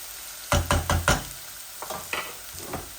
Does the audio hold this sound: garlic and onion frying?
yes